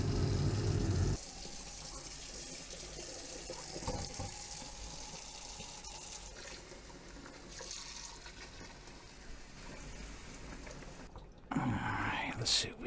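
Tap water runs over a freshly cast 60 troy ounce 999 fine silver bar after an acid bath, a steady close hiss of flowing water that swells louder at the start and again near the end, with a voice speaking over it.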